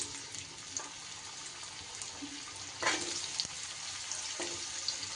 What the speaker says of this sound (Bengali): এবার আমি এই তেলে আলুগুলো দিয়ে দেব